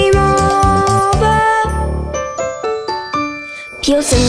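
Bright jingling bells ring in a festive Polish Christmas song, sounding in rhythmic bursts alongside melodic instruments and sung vocals.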